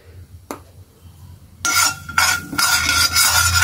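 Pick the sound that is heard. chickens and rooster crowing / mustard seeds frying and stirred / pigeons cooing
mustard seeds frying and stirred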